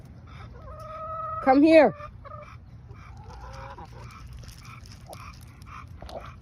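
Chickens on a homestead farm cluck and squawk, with one loud, harsh call standing out near the start, followed by softer scattered clucks and bird noises; a voice is heard briefly.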